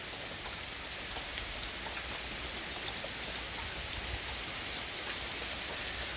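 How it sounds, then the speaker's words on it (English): Steady night rain pours down outdoors near a security light, a dense even hiss of drops hitting surfaces, constant and moderately quiet with no voices. "It's raining."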